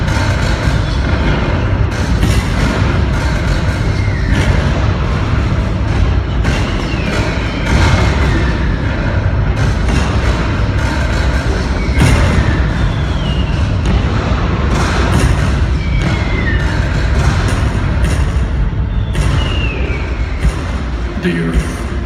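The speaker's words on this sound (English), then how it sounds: "At 1 o'clock, 150 Confederate cannon open fire. Union guns thunder back." Deep booming thuds and blasts of Civil War cannon fire in a Gettysburg museum cyclorama show repeat irregularly over a continuous low rumble, with other sounds layered in the mix.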